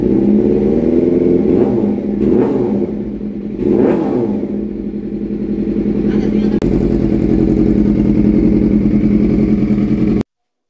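A Suzuki GSX-R 600cc sports bike engine idles loudly up close and is blipped into a few quick, rising revs early on, then settles into a steady rough drone before cutting off abruptly.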